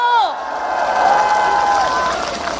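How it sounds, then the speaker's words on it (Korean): Crowd at an outdoor political campaign rally clapping and cheering as a senior party adviser is introduced, a short loud burst of applause and shouts mixed with a speaker's amplified voice. "뜨거운 박수 함성"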